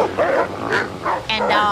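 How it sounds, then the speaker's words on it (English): Several dogs bark and yip in quick, short bursts in an animated cartoon scene, close and lively, with brief overlapping voices. "And dogs."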